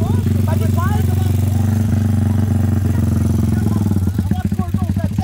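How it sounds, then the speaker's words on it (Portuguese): A 205cc motorcycle engine roars steadily at high revs at top speed in fourth gear, loud and close, with a constant droning hum and some clatter toward the end. "A moto tá de quarta, a moto dá mais velocidade."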